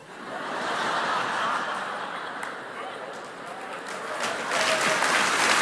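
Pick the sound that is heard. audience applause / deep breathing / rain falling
audience applause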